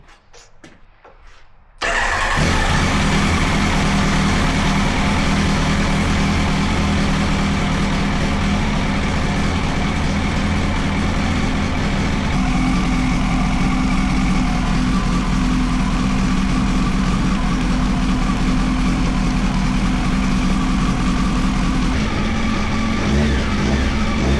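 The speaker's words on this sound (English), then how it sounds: "now we're gonna have to start the engine and let it burp a bit" A Kawasaki ZX-12R motorcycle engine fires up after a quiet moment and settles into a steady, loud idle that runs on unchanged for over twenty seconds while the cooling system burps air out after a coolant change.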